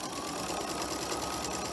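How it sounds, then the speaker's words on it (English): A sewing machine back stitches over ribbon on a small rosemary and balsam fir herb sachet, a steady close whirring drone with fine mechanical chatter running unbroken for under two seconds, no voices. "I like to back stitch over the ribbon as well"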